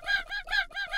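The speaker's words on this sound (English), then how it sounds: "Get back here, chicken!" A chicken in the video game Craftopia, three loud, close, rhythmic clucking calls in quick succession, with nothing behind them.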